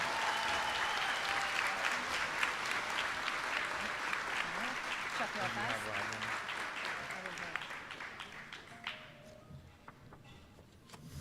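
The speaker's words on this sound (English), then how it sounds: "Can we please get a round of applause for Miss Giuliano's homeroom?" Applause fills a middle school's eighth-grade farewell ceremony, a crowd of hands clapping steadily and gradually tapering over about ten seconds, with murmuring voices and a few cheers mixed in.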